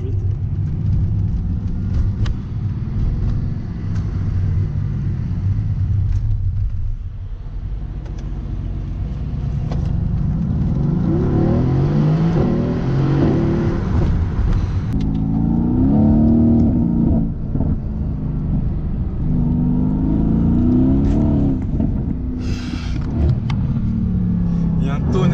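Mercedes-AMG GT S engine revving hard, with loud exhaust pops and crackles on downshifts and repeated surging rises in pitch, heard from inside the car with voices talking over it.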